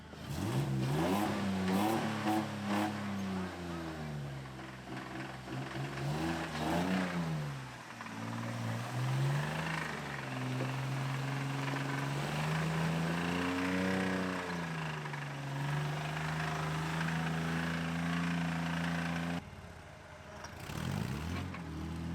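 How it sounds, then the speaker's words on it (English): A truck engine runs steadily nearby on an off-road trip, its pitch rising and falling as it revs up and settles back, continuous for the whole stretch. "the truck just started back up"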